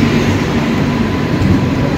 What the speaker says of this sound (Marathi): ट्रेन लागली अंबरनाथला निघते